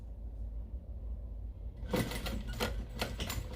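Sewing machine back stitching across the zipper of a fabric ID lanyard, a quiet low hum that gives way partway through to a rapid, close burst of needle clatter with a few stop-start pulses.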